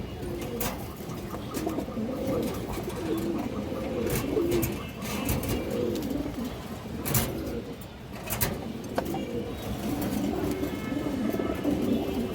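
Pigeons coo in a loft where a large red-eyed hen is among the birds, a steady low burbling chorus running throughout with scattered wing flutters and clatter, fairly close, no voices.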